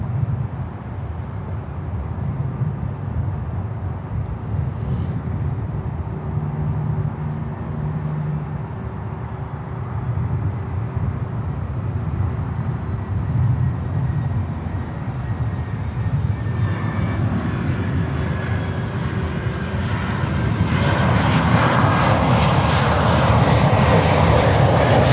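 A heavy cargo jet lands on runway 9 at Miami airport. A loud, continuous roar of aircraft engines swells as it nears, brightening and growing louder toward the end, with no voices.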